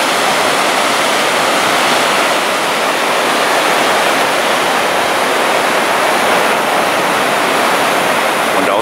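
Powerful tidal current at Saltstraumen near Bodø surges through the strait with whirlpools, a loud, constant roaring rush of water filling the whole stretch without pause and with no voices.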